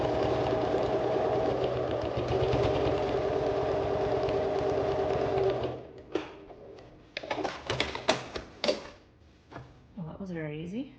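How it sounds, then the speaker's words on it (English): A sewing machine runs while closing the gap of a quilted fabric bin, a steady close motor whir for about six seconds that then stops, followed by a voice speaking. "And continue sewing up the gap."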